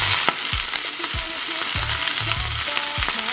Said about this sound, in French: j'ai fait chauffer ma poêle avec un petit peu d'huile de coco et on va commencer par faire cuire nos